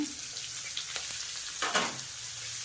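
Green chilies, chopped onion and garlic fry in hot oil, a steady close sizzle with a few sharper crackles and stirring scrapes over a low background hum.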